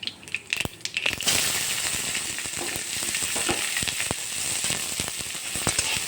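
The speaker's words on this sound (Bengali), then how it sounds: "পেঁয়াজটা একটু ভাজা ভাজা হলে" Loud crackling sizzle of chopped onion frying in hot oil, with sharp pops and clicks over a continuous hiss, no talking.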